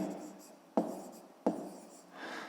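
An answer to a fifth-grade math exercise is handwritten in short scratchy strokes: two sharp onsets, each trailing off into soft rubbing. The strokes are close and quiet, with no talking.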